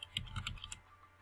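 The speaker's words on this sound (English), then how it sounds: "Now you can actually hear me typing without me having to be all so loud" A handful of soft keyboard keystrokes click in a quick burst, then stop, faint and close by.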